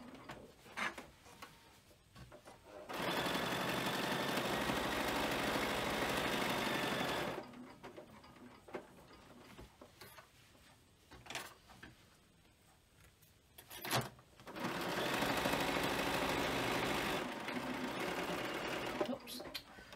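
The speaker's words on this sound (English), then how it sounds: "And then I'm going to stitch again about 5mm in to give a double row stitch in." Sewing machine stitching a second parallel row about 5 mm in on a frame bag patch pocket, two loud sustained runs of steady rapid stitching separated by quieter handling clicks and pauses.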